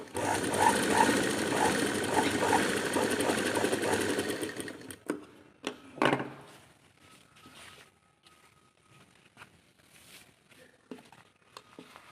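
A sewing machine stitches a back-hook blouse, running in a fast steady whirr for about five seconds, then stopping, followed by scattered handling clicks, cloth rustles and faint murmured speech.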